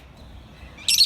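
A lovebird at a zoo lets out one brief, high chirp near the very end, after a near-silent stretch of faint background.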